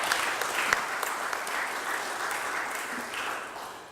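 A press conference audience in Philadelphia gives steady, moderately distant applause, a sustained even patter of many hands with a few sharper individual claps.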